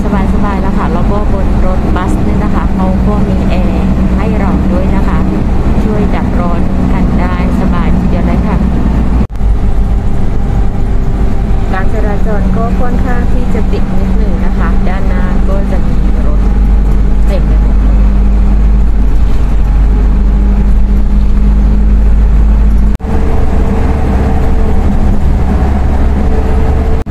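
Steady low engine drone and road rumble inside an air-conditioned coach bus travelling in Thailand, continuous and fairly loud throughout, with someone talking over it.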